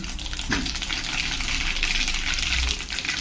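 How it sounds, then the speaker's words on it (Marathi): Mustard seeds and cumin sizzle and crackle in hot oil in a home kitchen pan, a steady close frying hiss with scattered pops throughout. "तर आपण आता राई जिरं टाकूया प्रथम, थोडे"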